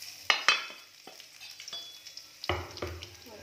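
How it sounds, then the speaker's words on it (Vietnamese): Chopped garlic sizzles in hot oil in a pan for Vietnamese braised duck, a steady crackling hiss broken by sharp clinks and scrapes of stirring, fairly close and moderately quiet, with no talking. "mình phi tỏi lên nè."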